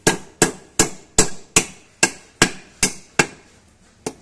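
A hammer strikes steadily about ten times at an even pace, driving a PTO bearing into a small power tiller gearbox during repair. Each blow is sharp and metallic with a short ringing decay.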